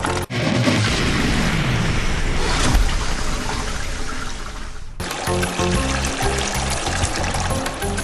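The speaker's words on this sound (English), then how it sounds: "with 20 litres of water cascading down upon it" Twenty litres of water cascading into a toilet onto a cassette tape, a loud, continuous roaring gush that shifts abruptly partway through into a choppier, splashing flush.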